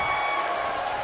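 Broad, steady roar of an arena crowd cheering at a wrestling event in the WWE 2K23 video game, dense and continuous throughout the short stretch.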